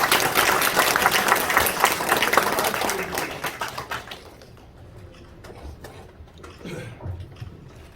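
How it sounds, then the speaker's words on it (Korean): Applause from the audience at a city mayor's first-anniversary press conference, a dense burst of clapping for about three seconds that thins out and fades to scattered claps. "박수를 잘 안 치시더라고요. 한번 화끈하게 한번 쳐주세요."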